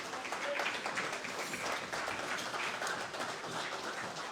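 An audience at a Christmas presentation night applauds steadily, a dense wash of many hands clapping at moderate volume with no pauses.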